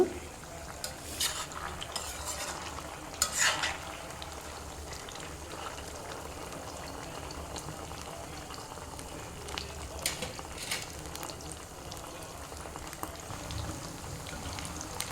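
Chicken 65 pieces frying in hot oil in a home kitchen: a soft, continuous sizzle and bubbling at low volume, with a few brief stirring scrapes near the start and midway.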